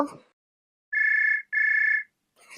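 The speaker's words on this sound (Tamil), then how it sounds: "அதுக்குள்ளே யார் ஃபோன் பண்ணுறா" A phone rings twice with a bright electronic trill in a quiet room; a voice briefly speaks before and after.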